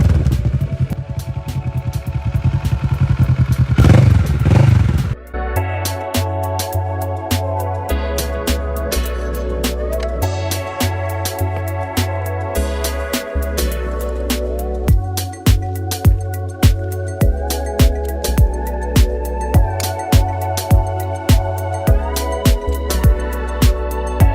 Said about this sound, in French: Là on va écouter ça, c'est un bruit assez rauque.